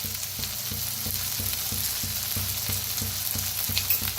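Tomatoes, onion and spring onion fry in a pan with a steady, dense sizzle, and a regular stirring scrape recurs at an even beat about every third of a second, close and loud with no voices.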